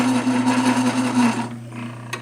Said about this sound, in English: that's how I drop and lower to engage the motor to start running the lathe